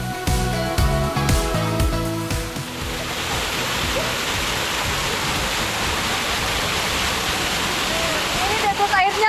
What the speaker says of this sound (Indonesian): Air terjun Pelisan di Desa Langgahan